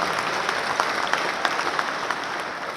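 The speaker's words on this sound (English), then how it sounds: "I think you guys deserve a big round of applause" An audience applauds the TiE team at a summit in Hyderabad, a brisk, dense burst of clapping filling the hall from start to finish.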